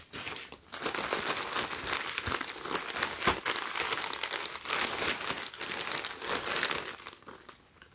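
Plastic packaging bag crinkling steadily while a heather gray PacSun hoodie is unpacked, a close, continuous rustle and crunch lasting several seconds with no speech.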